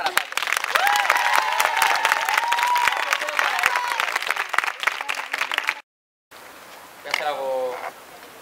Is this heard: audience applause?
yes